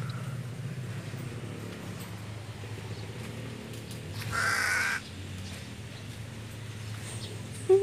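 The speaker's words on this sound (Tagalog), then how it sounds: "Uwak ang tawag dyan." A single crow caw rings out midway, fairly near, against quiet outdoor background noise at a plant shop in Sabang, Lipa City.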